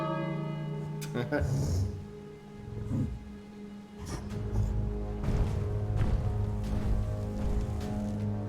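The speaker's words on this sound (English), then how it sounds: "Oh, I have to ring this bell." A bell in the King's Quest video game is struck several times, its resonant ringing tones sustaining and overlapping while a person talks over them.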